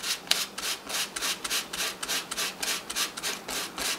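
Sandpaper of 320 grit rubs back and forth over a coated copper antenna wire from a wireless push-button doorbell, a close, rhythmic scratchy swishing in quick regular strokes.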